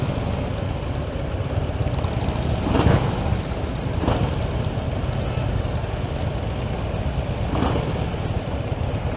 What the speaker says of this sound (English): Gotta rev up.